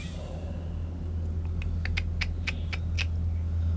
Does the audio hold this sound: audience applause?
no